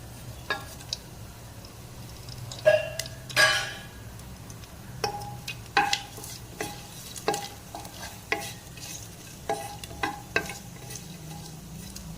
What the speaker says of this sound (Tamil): எண்ணெய் காஞ்சிருச்சு. 1 ஸ்பூன் பெருஞ்சீரகம், ஒரு 2 சின்னதாக 2 பட்டை, ஒரு 2 பிரியாணி இலை,